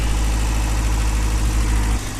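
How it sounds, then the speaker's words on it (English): A Toyota engine idles on a cold start while warming up, a steady, loud, low rumble with an even drone that eases slightly near the end, with no voices. "So we're gonna go warm up engine."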